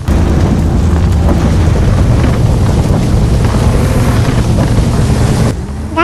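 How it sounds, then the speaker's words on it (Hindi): A waterfall in a Russian driving video game, set beside a UAZ Hunter, gives a loud, steady broadband rush that fills the scene, then drops abruptly near the end, with no speech. "गाइस ये देखो यहाँ पर एक झरना है और इसकी आवाज क्या आ रही है"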